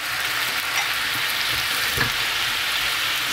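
Tofu frying in an oiled pan gives a steady, close, dense sizzle that holds evenly throughout, with no talk over it.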